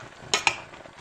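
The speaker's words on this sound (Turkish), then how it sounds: "Ara ara böyle karıştırmamız gerekiyor." A spoon scrapes and knocks against a pot while stirring homemade Isparta rose jam as it simmers, two quick metallic clinks over a soft bubbling background.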